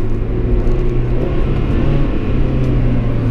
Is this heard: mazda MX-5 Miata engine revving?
yes